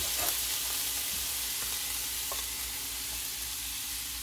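Butter and Worcestershire sauce sizzle in a hot pan for a budget Philly cheesesteak, a steady close crackling hiss with faint stirring clicks, no voices.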